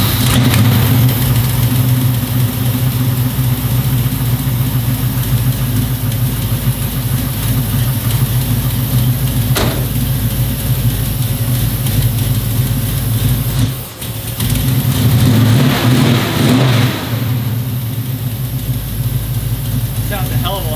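A Buick Regal engine idles steadily with a low, constant rumble, swelling briefly as it revs partway through before settling back to idle.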